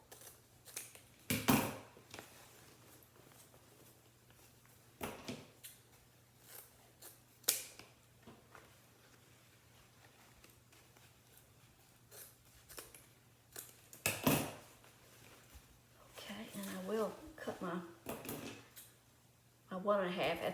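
Scissors snip through ribbon at an angle in a few sharp, close cuts spread out over time, with a person talking between and over the snips.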